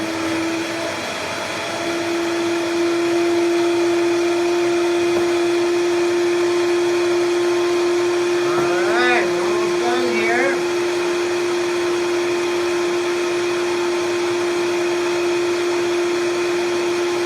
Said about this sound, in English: And we're going to blend it up. Takes about 30, 40 seconds, 50 seconds to get it blended smooth.